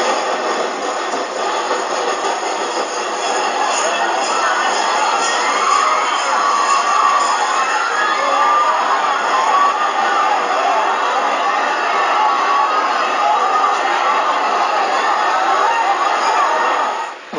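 Crowd scattering from a rampaging elephant at the Manissery Killikkavu Pooram temple festival: a dense, steady roar of many voices shouting and calling, loud and unbroken throughout.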